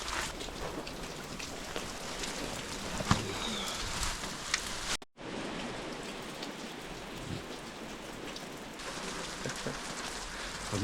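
Steady rain falls outdoors at an abandoned homestead during a water pipe repair, a dense continuous patter on surfaces with a brief dropout midway and occasional louder drips.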